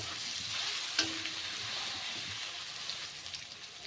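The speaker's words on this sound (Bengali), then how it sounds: "দিয়ে দেব লঙ্কা গুঁড়ো ভালো করে একটুখানি কষিয়ে নিতে হবে" Chili powder sautéed in a pan while cooking cabbage: a soft, steady sizzle at close range with one sharp tap of a utensil, otherwise even and faint, no talking.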